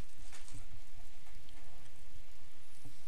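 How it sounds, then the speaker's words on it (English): Steady rain from the Zelda: Breath of the Wild video game on Wii U hisses continuously as a dense, even patter of drops, moderately loud with no talking over it. "The rain is immersive."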